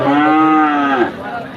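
A Frisian cow at a busy cattle market lets out one close, full moo lasting about a second that trails off into quieter background murmur.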